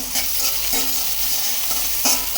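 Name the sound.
gourd curry cooking on the stove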